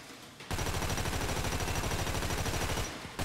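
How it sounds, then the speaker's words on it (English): Rapid automatic fire from an Assault SMG at a Ammu-Nation shooting range in GTA V, a continuous loud burst of about two and a half seconds with a tight rattling rhythm, bracketed by quieter game ambience. "let's go for the Assault SMG, which is a great weapon overall."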